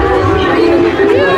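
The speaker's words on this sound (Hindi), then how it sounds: "कितना भीड़ है भैया आज सोनपुर मेला में" A packed crowd at the Sonpur fair, with a near voice talking over a steady wash of chatter and background noise.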